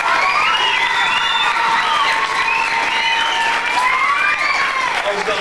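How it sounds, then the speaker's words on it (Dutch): An audience at a 1992 school-leavers' show applauds the lead actors, steady clapping mixed with high shouting and cheering voices that carry close and loud throughout. "Een dik verdiend applaus, daarom vlug voor de hoofdrolspelers."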